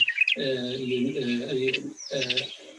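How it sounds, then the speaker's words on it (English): A bird coos in steady harmonic phrases, close and clear, with a brief chirp at the start, in a quiet natural setting away from the city. "Is the birds singing?"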